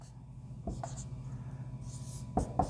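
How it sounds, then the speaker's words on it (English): Marker or pen writing out a definite integral in large strokes on a board, a few short scratchy strokes separated by pauses, close and moderately loud over a quiet room hum. "So I'm going to write it kind of big."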